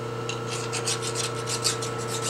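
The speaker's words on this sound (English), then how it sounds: "going to take this out and take some of the burrs off of it before I continue." A file rasping burrs off a milled metal part, with rapid rhythmic strokes over a steady machine hum, close and moderately loud, with no speech.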